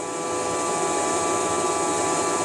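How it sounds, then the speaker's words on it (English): Constant loud engine whine with steady tonal hum as an Opel Calibra race car roars past at speed in the video game Gran Turismo 4, unbroken for the whole stretch. "you hear the Calibra go by?"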